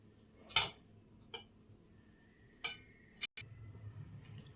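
A utensil clinks against a bowl while egg bun batter is mixed after oil is added, giving a few sparse, separate metallic taps over a quiet kitchen background.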